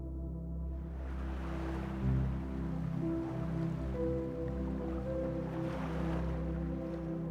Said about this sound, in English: The water rushes over the lava rock, washing away the old ways, churning the wooden gods into splinters.